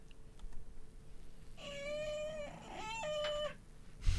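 A cat meows twice in a row, each call drawn out and fairly clear against a quiet room, with a brief noise at the end.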